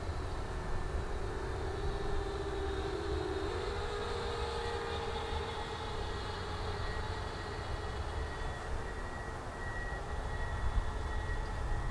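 A Parrot Anafi drone flying in racing mode makes a steady, even whirring buzz that holds for the whole stretch, with no voices over it.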